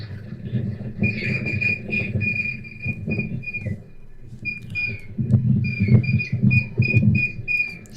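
A protester at a Washington, D.C. demonstration blows a whistle, sounding repeated shrill blasts over a low, steady crowd rumble outdoors.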